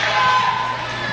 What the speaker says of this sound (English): Crowd really into this match right here in the 3rd round.